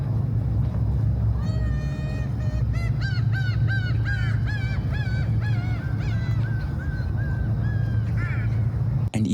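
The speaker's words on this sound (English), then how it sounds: "You can hear the birds and you can hear the water" Geese honk repeatedly in a Korean park at dawn, a run of loud nasal calls over a steady low background rumble, close by and with no voices.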